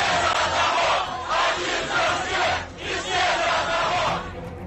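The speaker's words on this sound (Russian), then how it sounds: "Разгневанная толпа направилась к торговому центру «Бирюза», громя все на своем пути." An enraged crowd riots on a street in Biryulyovo, Moscow, shouting and chanting in loud surging waves that swell and fade as the mass of voices roars together.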